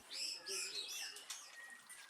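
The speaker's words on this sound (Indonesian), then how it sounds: "agar burung tumbuh sehat dan gacor atau berkicau terus-menerus" Songbirds raised for sale, fed mealworms, crickets and red ant eggs, chirp in bright, rapid overlapping calls and trills, fairly close and continuous.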